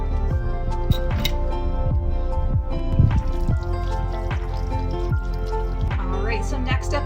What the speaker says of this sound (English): So go ahead and put the water in.